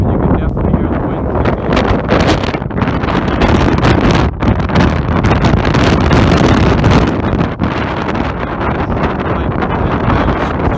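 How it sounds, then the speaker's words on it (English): Strong wind buffeting the microphone at Delicate Arch in Arches National Park, a loud continuous rumbling roar with gusty surges throughout. "you can definitely hear the wind"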